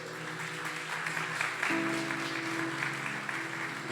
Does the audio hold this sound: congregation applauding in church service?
yes